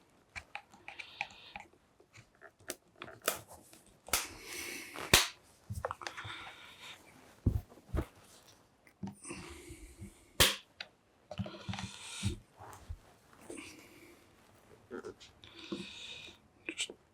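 Plastic clips on a TomTom GO 5000 casing snap open as the case is pried apart, giving sharp close clicks and cracks at irregular intervals with quiet handling between them.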